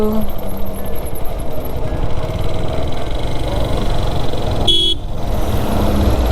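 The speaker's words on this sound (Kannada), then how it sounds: "ಬ್ರೇಕು ಸೌಂಡ್ ಬರ್ತಾ ಇದಲ್ವ ಇದು" A jeep on a rough track near Mandalpatti, Madikeri, rumbles along with its engine loud and close while thin, high-pitched squealing tones from the brakes ride over it, and a brief break in the noise comes near the end.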